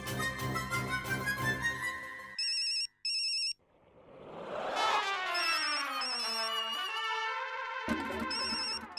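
A mobile phone rings with a bright melodic ringtone, a tuneful phrase that pauses briefly and then returns with rising and falling notes, fairly loud and with no talking over it.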